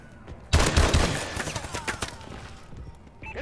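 Bursts of automatic gunfire crackle in Call of Duty: Advanced Warfare, a loud volley at the start trailing into scattered shots and a softer game background.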